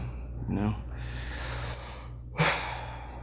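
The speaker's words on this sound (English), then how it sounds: "Are you yawning?" A person gives a drawn-out yawn, an audible breathy exhale that rises and trails off, followed by a short sharp intake of breath near the microphone.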